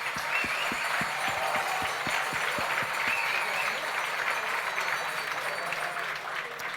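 An audience applauds at the Chronos d'or 2022 awards evening, with dense, sustained clapping from a crowd throughout and a few distinct claps near the start.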